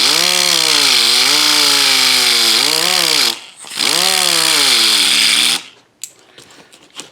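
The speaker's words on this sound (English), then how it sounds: "all I did was take my sanding disc and just gently rotated it around while I did the sanding off" Sanding disc grinding a 1967 Mustang door hinge, heard as loud, close, harsh whirring with a pitch that wavers as the disc is worked around the metal, in two long bursts with a brief dip between them, then winding down.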